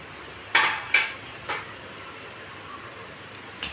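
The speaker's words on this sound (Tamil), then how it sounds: "எண்ணெய் ஊற்றி கடுகு போட்டாச்சுங்க. கடுகு பொரியுதுங்க." Mustard seeds popping in hot oil while tempering a bottle gourd chutney: a few sharp, separate crackles close by, spaced out and fading, with one last faint pop after a pause.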